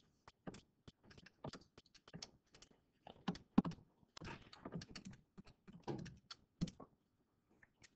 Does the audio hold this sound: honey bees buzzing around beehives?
no